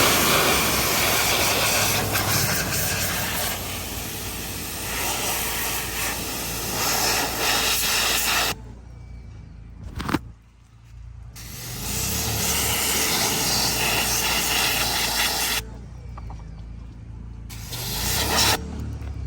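Water spray hisses steadily as a wiper blade is rinsed clean during mobile car detailing, broken by two short pauses where the jet stops, then resumes loud and close.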